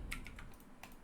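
Computer keyboard keys pressed for Blender shortcuts while loop cuts are added to a globe model, heard as a few quick, light clicks, faint and close with no talk over them.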